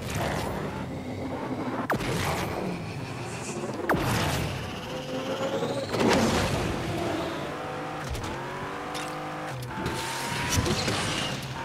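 A Ferrari 488 Evo races through a desert course in Asphalt 9, its engine revving up and down repeatedly with sharp gear-shift breaks, whooshes of passing and brief tire squeals, loud and busy throughout.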